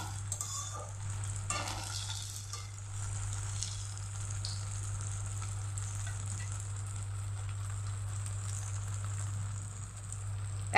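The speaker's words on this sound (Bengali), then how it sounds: "এটা কিন্তু মাঝারি আছে ভাজতে হবে, বেশি হিট দিলে পুড়ে যাওয়ার ভয় থাকে।" Sabudana pakoras deep-frying in oil over medium heat produce a steady, close bubbling sizzle that runs unbroken throughout, with a few faint utensil stirs and no talking.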